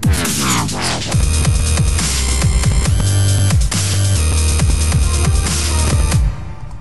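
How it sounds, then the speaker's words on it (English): Loud dubstep track with heavy bass and sweeping, dropping synth pitch drops over a driving beat, ending abruptly. "some kind of pitch drop"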